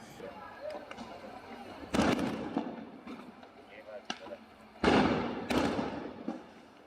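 Heavy booms and thuds go off in irregular bursts, several sharp blasts standing out, with faint background noise and distant voices.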